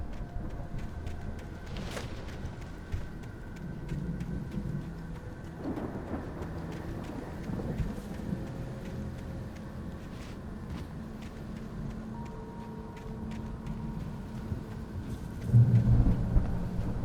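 Thunderstorm in the Alan Wake video game, a steady low rumble of rain and wind with faint distant thunder rolls, swelling into a louder rumble near the end.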